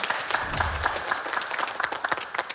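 Employees at a store opening clap together in a steady round of applause, close and fairly dense, with a faint voice briefly under it.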